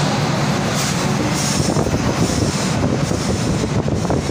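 The 12108 Sitapur–LTT superfast train rolls slowly through Itarsi Junction without stopping, giving a loud, steady rumble of wheels and carriages with rhythmic clatter and wind buffeting the microphone.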